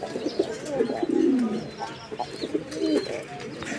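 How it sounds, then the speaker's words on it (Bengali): Pigeons coo repeatedly at a busy pigeon market, several throaty calls overlapping in a close, continuous chorus with light background chatter. "এই মুহূর্তে আমরা দেখতে পাচ্ছি আরও এক জোড়া কবুতর"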